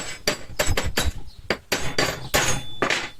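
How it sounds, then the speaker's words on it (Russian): A hammer taps on a cut wheel bearing inner race to crack it, producing a series of sharp, ringing metallic strikes in irregular rhythm, close and loud, about a dozen blows in quick succession. "теперь постукиваем молоточком"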